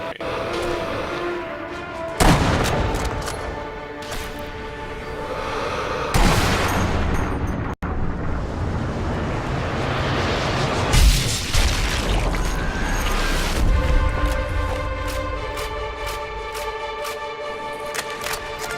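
Heavy booms and blasts from the sniper shooter game Sniper Elite V2 erupt over a dense mix of game sound, with sharp onsets repeating through the stretch and someone talking at times.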